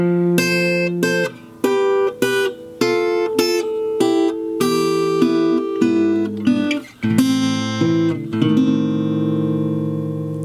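Slow guitar demonstration of section D from the lullaby in Disney's Coco, with plucked notes in a steady, unhurried rhythm forming a gentle descending melodic line, close and clear with no talking.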